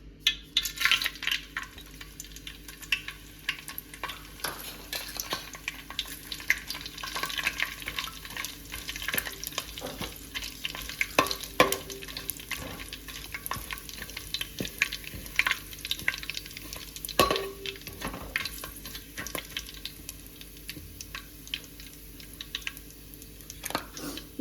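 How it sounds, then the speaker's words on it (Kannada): Spices frying in hot oil give a steady sizzle and crackle with scattered clinks and stirring scrapes throughout, quiet and close, continuing unbroken for the whole stretch. "ಇವಾಗ ನಾನು ಅದಕ್ಕೆ ಸ್ಪೈಸಸ್ ಹಾಕ್ತಾ ಇದ್ದೀನಿ."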